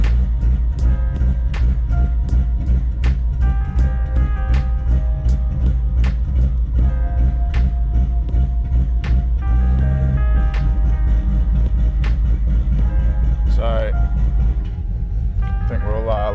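A drag car engine idles under ECU rotational idle, a loud, lumpy rhythmic rumble with sharp regular pops and misfire-like cracks, close up, and a voice speaks briefly over it near the end.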